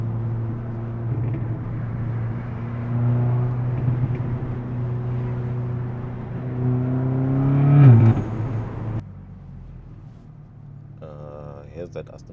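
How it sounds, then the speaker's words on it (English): A passing Aston Martin Rapide S gives a low engine drone that swells as it nears, peaks, then fades, heard from inside another car with people talking over it. "Here's that Aston Martin. It's a Rapide S. Sounds good."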